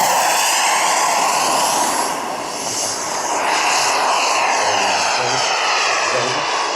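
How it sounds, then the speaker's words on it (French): A large airplane passes low and slow overhead, its broad engine roar loud and steady throughout with a slight dip in the middle, no talking. "Vous avez vu? C'est ce que j'aime avec cet avion. Il est énorme."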